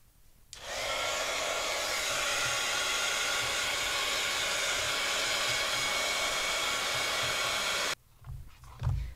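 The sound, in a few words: craft heat tool blowing hot air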